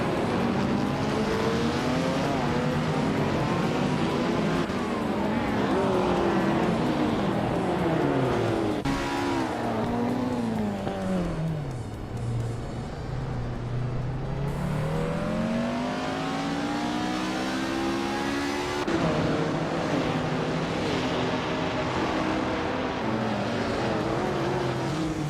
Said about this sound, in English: Lithocarp's car is a 1970 Abarth 1600 TCR, known for its agility